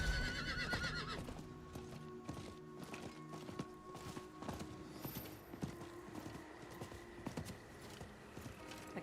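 Video-game horse hooves clip-clop in a steady rhythmic clatter as a horse walks, with a whinny at the start and a faint hum underneath.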